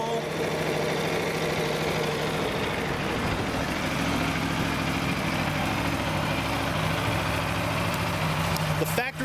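An Aprilia RSV4 RR sport motorcycle with factory exhaust idles steadily nearby, a constant throaty exhaust rumble with no pauses, continuing for the whole stretch.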